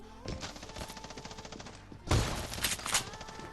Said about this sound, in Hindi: एक शॉट मैंने भी मारा, बट उसका शॉट भाई लिटरली बहुत खतरनाक था।